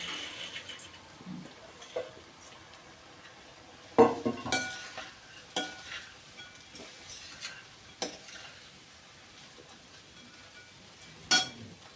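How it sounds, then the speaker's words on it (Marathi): Sprouted mung beans stirred into soft cooked tomatoes in a pan, giving quiet sizzling under scattered utensil clinks and scrapes, several sharper knocks standing out. "आपले टमाटर छान शिजलेले आहे, छान असे मऊ पडले आणि त्यामध्ये मोड आलेले मूग टाकूया।"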